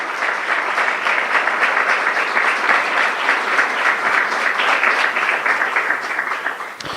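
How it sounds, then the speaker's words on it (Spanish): Church congregation applauding together during a sermon, a dense, steady wash of clapping at full strength for about seven seconds before tapering at the end, with no talking over it. "¿Cuánto le da un aplauso al Señor por su palabra?"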